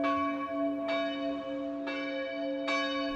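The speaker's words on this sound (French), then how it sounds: "Les cloches sonnent" Church bells of a closed church toll with three distinct strikes about a second apart, each ringing out and lingering over a sustained humming resonance.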